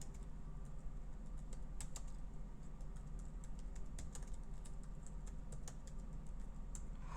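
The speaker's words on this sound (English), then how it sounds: "you're gonna do the typing" Rapid, steady keystrokes clatter on a computer keyboard over a constant low background hum, the tapping continuous throughout.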